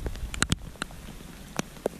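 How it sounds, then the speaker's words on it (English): Rain falls steadily outdoors during a crappie fishing trip, a soft continuous patter punctuated by several sharp drop taps and clicks, fairly quiet and with no talking. "Tried to wait the rain out, but it don't look like it's going nowhere."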